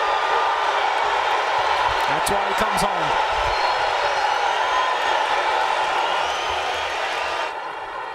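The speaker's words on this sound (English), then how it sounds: "And listen to this crowd." Dense, loud arena crowd roar filling a boxing venue before a world title bout featuring Terence Crawford, with someone talking over it and a few brief thumps near the middle.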